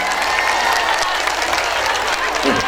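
A crowd at an Islamic religious gathering (pengajian) breaks into sustained applause, a thick, even clatter of many hands that carries on for a few seconds, with faint voices mixed in.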